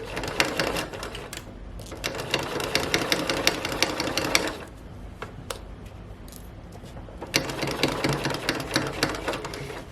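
A sewing machine stitches stiff fabric for a boxed pillow with a zipper, running in loud, steady bursts of rapid needle clatter. The bursts are broken by a quieter pause in the middle, and no one speaks.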